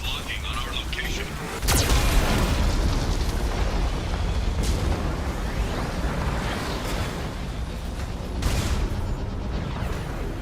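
Geth cannon fire and explosions boom in the Mass Effect 2 video game, heavy blasts and rumbling impacts layered over a dense, continuous roar of battle noise, with sharp louder hits near the start and end.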